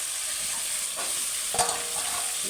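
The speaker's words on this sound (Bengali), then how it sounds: "এবার আমি যে সবজিটা ভেজে রেখেছিলাম আলু আর ঝিঙে সেটা দিয়ে দেবো" Fried potato and ridge gourd stirred into hot spiced oil in a pan, a steady bright sizzle with soft scraping stirs and a small clatter partway through.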